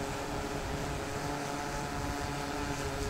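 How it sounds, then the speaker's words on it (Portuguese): DJI Inspire 2 drone flying over a beach, a steady continuous propeller whine and whir holding at an even level throughout, with no talk. "Vou subir o drone aqui."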